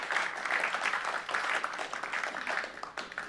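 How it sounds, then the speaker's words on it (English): Audience applause at an evening program honoring the Toronto Raptors' announcer, a dense steady patter of many hands clapping throughout, fairly loud and close, without speech over it. "It's all right to clap."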